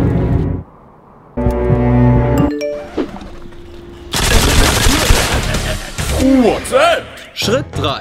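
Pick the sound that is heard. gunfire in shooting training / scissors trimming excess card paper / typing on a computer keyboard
gunfire in shooting training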